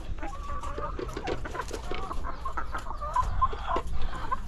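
Hens on a small egg farm cluck and murmur close by in a busy, irregular chorus of short calls, with light rustling and handling noises throughout.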